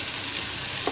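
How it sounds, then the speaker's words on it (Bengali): Bitter gourd (korola) frying in a pan, a steady, close sizzle with dense crackling throughout and a brief louder pop near the end. "উচ্ছেটা আমার ভাজা হয়ে এসছে"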